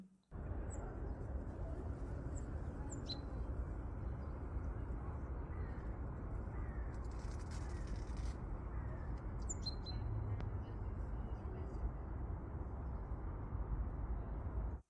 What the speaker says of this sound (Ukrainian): радісно співають пташки